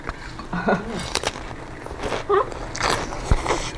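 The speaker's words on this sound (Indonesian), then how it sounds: "Kriuknya benar-benar kriuk." A crunchy bite into a fried meatball served with homemade sambal gives a few sharp, close crackles and crunches between moments of chewing, with a little voice heard around them.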